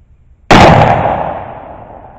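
A single loud, close gunshot from a heavy Triple Seven powder load cracks sharply, then fades into a long, rolling decay.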